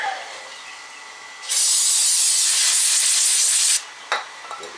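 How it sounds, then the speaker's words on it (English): Brake cleaner sprays onto a cloth during a brake and rotor job on a 2005 Land Rover LR3, a loud steady hiss of about two seconds that cuts off sharply and is followed by a few short bursts. "Get the cloth nice and soaked with some brake cleaner"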